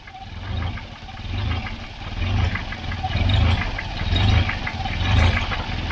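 A Volvo 940 Turbo engine idling roughly when hot, with a fault such as an air leak or bad sensor, giving a loud, close, uneven low rumble that surges and sags in a steady rhythm, with no talking.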